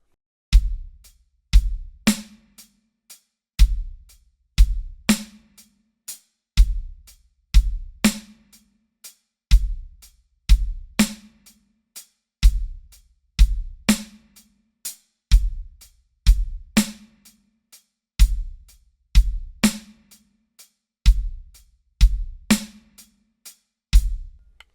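A drum kit plays a slow triplet groove with added bass drum hits, evenly spaced punchy kicks and sharp cymbal and snare strokes repeating in a steady rhythm, close and alone.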